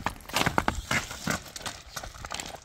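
A young horse, about 1.47 m tall, walks on firm ground, its hooves clopping in an uneven series of close, sharp knocks.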